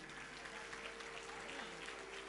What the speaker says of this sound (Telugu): అలా చేయించినటువంటి వాళ్ళ గురువు గారికి ఒకసారి గట్టిగా చప్పట్లు.